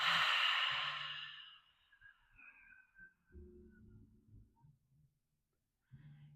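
A long, breathy exhale during a calming yoga breathing exercise, loud and close, fading away over about two seconds, followed by faint quiet breathing and small body sounds.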